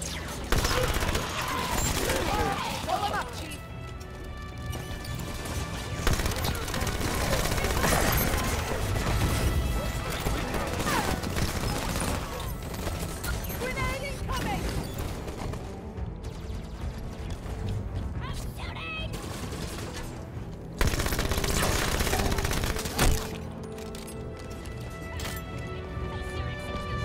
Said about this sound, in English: The SMG is tearing through elites way better than I think it should.